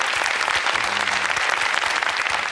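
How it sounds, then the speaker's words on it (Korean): A talk concert audience breaks into steady, dense applause, loud and continuous throughout with no voices on top, evenly sustained from start to finish. "박수 부탁드릴게요"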